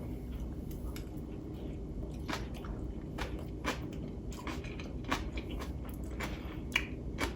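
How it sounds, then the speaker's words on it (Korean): Crunchy chewing of juicy young radish kimchi, close and moist, with irregular crisp bites over a low steady background hum. "열무 씹는 소리 들리시죠?"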